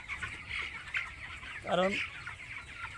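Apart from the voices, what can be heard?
19-day-old broiler chickens clucking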